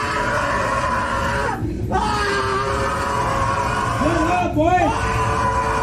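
A man bellows and yells repeatedly on a bus, his screams rising over steady rumbling background noise and other voices.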